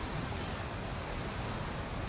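A small waterfall in the video game Planet Crafter gives off a steady, soft, broadband rush of splashing water that stays even and fairly faint throughout.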